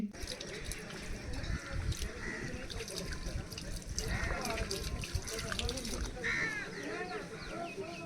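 Tap water splashes and drips outdoors behind a hotel near Bakkhali sea beach as hands and feet are washed, uneven nearby pouring and spattering mixed with people talking.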